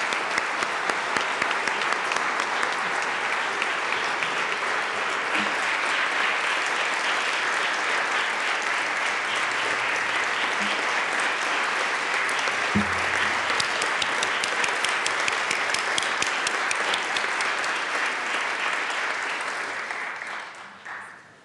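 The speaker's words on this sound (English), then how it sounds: "warm round of applause." A warm round of applause fills the Colorado House of Representatives chamber during a 2017 legislative session, dense sustained clapping from many people that continues for about twenty seconds before tapering off at the end.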